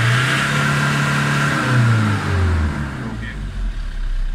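A Nissan Eagle Ultra engine revs hard toward the red line, a loud rising then falling roar with a mechanic's voice briefly over it.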